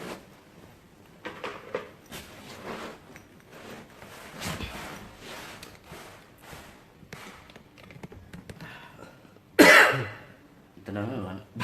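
A single sharp cough bursts out near the end, loud and close, after a stretch of quiet talking and shuffling.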